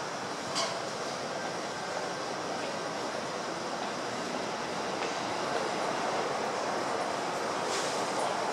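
A Seibu 10000 series Red Arrow limited express train departs a station and rumbles steadily past, a continuous broad roar of wheels and carriages with faint metallic squeals on top, close and unbroken throughout.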